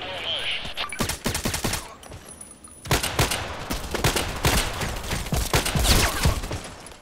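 Gunfire crackles in Contract Wars, a first-person shooter, as dense bursts of sharp shots. A quiet stretch comes first, then heavy rapid volleys follow, with some single cracks in between.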